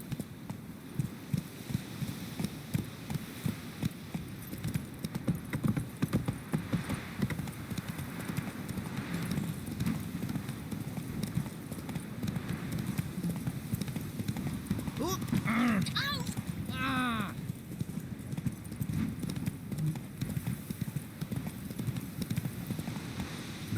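Roach the horse galloping in The Witcher 3, steady rhythmic hoofbeats throughout with a brief neigh midway, moderately close under background music and an occasional voice.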